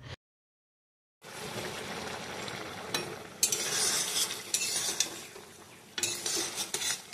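A pan of okra and potato curry with mustard paste is stirred with a utensil after a brief silence, giving scraping and clattering strokes of uneven loudness over a soft cooking sizzle, with no voices.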